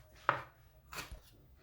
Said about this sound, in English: Now I've finished chopping up my vegetables.